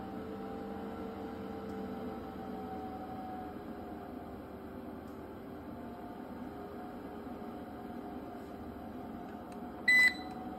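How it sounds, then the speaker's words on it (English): An EG4 6000EX inverter runs off battery with no solar panel input, giving a steady electrical hum with faint tonal whine lines, and a brief high beep near the end. "Listen to the inverter."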